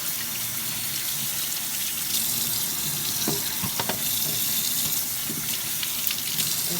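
A kitchen tap runs steadily into a sink while grapes are rinsed, a constant close hiss of water with a few soft splashes and clinks.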